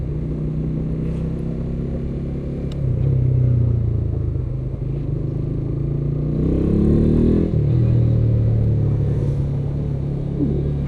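A Honda RS150R motorcycle with its stock exhaust idles nearby with a loud, steady low rumble, swelling a couple of times into brief throttle blips before settling back to idle.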